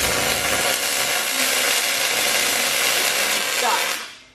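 Welding torch running a first weld on a boat rudder, a continuous loud hissing crackle that holds steady for about four seconds before cutting off abruptly.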